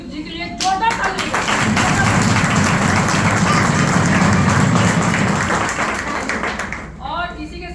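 A large seated audience at a speech event claps loudly and steadily for Santosh Kumar Deshmukh, a dense sustained round of applause that swells, holds and then fades, with brief speech at either end.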